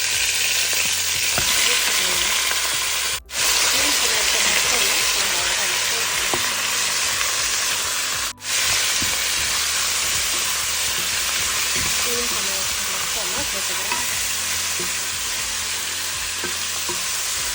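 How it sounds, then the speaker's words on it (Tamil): Mutton sizzles loudly in hot ghee with whole spices such as bay leaf, a dense, constant frying hiss close by with faint stirring scrapes underneath. "மட்டன் நம்ம சேர்த்துக்கலாம்."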